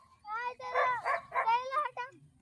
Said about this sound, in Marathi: अजून तिकडे एखादा कुत्रा असेल तिकडे भुकतात ना.